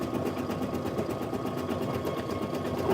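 Embroidery machine sewing a thick satin stitch around gold patches, a steady fast mechanical chatter with an even rhythmic needle beat and faint motor hum, heard alone and fairly quiet.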